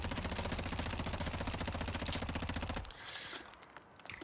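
A suppressed gun with no foregrip fires in a video game as a rapid, even automatic burst of close, dense shots for about three seconds, then stops and leaves quieter background sound.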